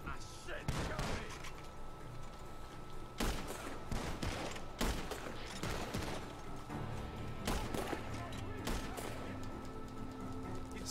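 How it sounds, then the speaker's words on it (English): Bursts of gunfire crackle in quick volleys from a barn in Red Dead Redemption 2 over a busy, dense background, with sharp broadband cracks recurring throughout, some clustered like rapid automatic fire. "Gunshots are coming from that barn!"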